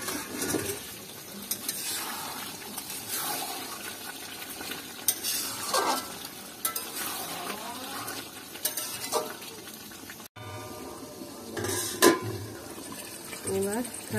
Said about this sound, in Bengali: ভালো করে এবার কষিয়ে নিচ্ছি।